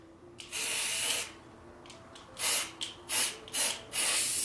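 Fabric paint is sprayed onto jeans in short hissing bursts, about six close puffs with brief pauses between them, over a quiet room background. No one speaks.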